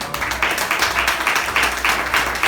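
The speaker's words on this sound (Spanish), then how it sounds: "Denle un fuerte aplauso al Señor." A Christian church congregation claps together in steady, rhythmic applause, a full room of hands beating in time for a few seconds.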